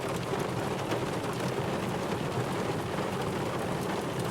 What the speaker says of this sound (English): I keep getting the windshield has got so much rain on it